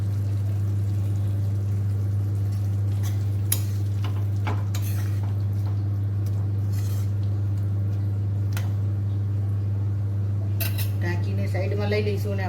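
A spoon stirs aloo capsicum sabzi in a pan, giving intermittent clinks and scrapes against the metal over a steady low hum, with a few sharper taps near the end.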